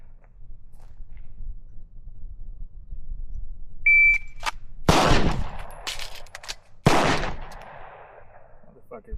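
A pistol fires on a range during reload practice with a magazine change: a shot timer beeps, then two loud sharp gunshots about two seconds apart, with quieter handling sounds between them.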